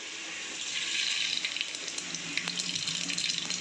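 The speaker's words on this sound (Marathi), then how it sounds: "चला तेल तापलेलं आहे. आता आपण टाकूयात मोहरी." Mustard seeds hit hot oil in a pan for khichdi, giving a steady hiss with scattered small crackles and pops, close and fairly quiet, with no talking.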